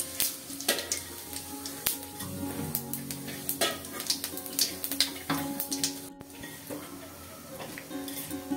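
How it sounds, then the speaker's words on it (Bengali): Cumin seeds dropped into hot mustard oil for tempering before hilsa fish goes in, giving a steady crackling sizzle with scattered clinks of a pan and utensil, close and continuous. "সরিষার তেল দিলাম, ইলিশ মাছ রান্না করব। জিরা ফোড়ন দিলাম"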